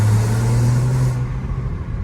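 A BMW F22 M235i with a stage 2 tune hums with a deep, steady engine drone from inside or close by, holding a low pitch before easing off slightly near the end, with no talking.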